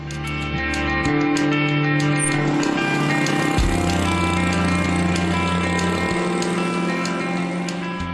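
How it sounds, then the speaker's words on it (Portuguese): A motorcycle engine runs loud and close for the whole stretch, a steady rumbling drone with a couple of brief gear or throttle shifts, with no voices over it. "Se vocês acham que o Renato parou de andar de moto depois do acidente?"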